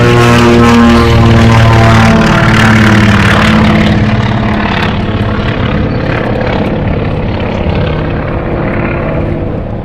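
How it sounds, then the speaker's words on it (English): A Beechcraft 18 propeller airplane takes off at the Omaka Airshow with a loud, steady droning engine roar that fills the air and eases slightly as it pulls away. "To the south we've got the Beach 18 just taking off."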